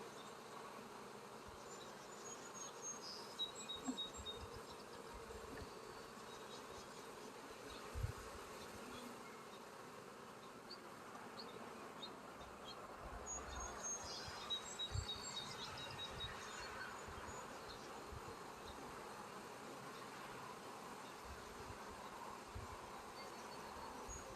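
Bees buzz continuously in the Bee Aware game, a soft, steady drone with faint wavering higher tones and a small bump partway through, no talk over it.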